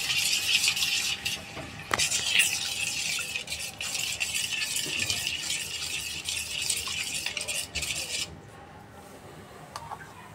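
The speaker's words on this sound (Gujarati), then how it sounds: "બધું બરાબર મિક્સ થઈ જાય ત્યાં સુધી આને હલાવવાનું છે" Spinach sev dough of spinach and gram flour being stirred in a bowl, a steady close scraping and rubbing with brief clinks, continuous for about eight seconds before fading to quiet.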